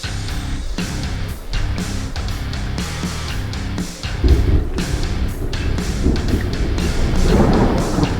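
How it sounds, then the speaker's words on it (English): Thunder rumbles in American Truck Simulator with the Realistic Graphics Mod, a heavy low roar under storm noise that steps up and grows louder and rougher about halfway through, sustained to the end. "Thunder, like you've never imagined."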